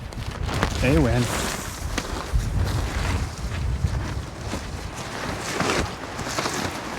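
Strong wind buffets the microphone at a lake during a below-freezing solo camping trip, with gusty low rumbles and flapping bursts, while a person talks and handles gear nearby.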